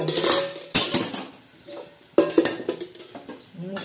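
Eggplant and potato frying in a pan with salt added, stirred in bursts of metal scraping and clinking against the pan over a light sizzle, with quiet gaps between the strokes.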